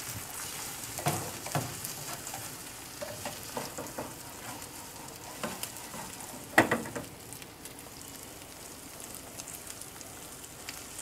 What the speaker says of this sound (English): Mix the stuff around a little bit.